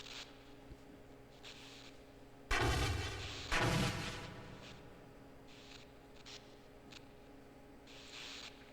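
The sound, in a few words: explosions in the video game Half-Life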